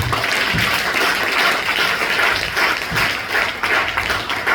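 A church congregation applauds loudly and continuously at a Sunday service, dense and close, holding steady throughout without a break.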